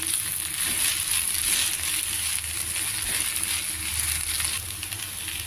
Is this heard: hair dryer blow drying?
no